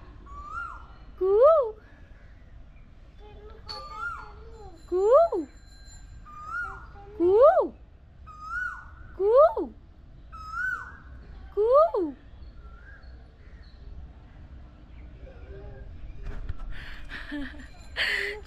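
A cuckoo calls in spring, a clear rising two-part call repeated about seven times at steady intervals, fairly loud against a quiet background, with brief noise and a voice near the end.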